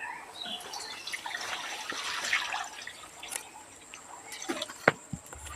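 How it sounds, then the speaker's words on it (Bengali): Water poured into a cooking pan on a lit stove, a soft continuous splashing and trickling with a few louder drips near the end, close but fairly quiet, without talk. "ওর মধ্যে একটু বেশি করে জল দিয়ে দিচ্ছি"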